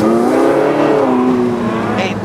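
A Porsche 918 Spyder with the Weissach package accelerates hard on a racing circuit, its engine note climbing loudly and steadily. The car is close throughout, and a voice talks over it.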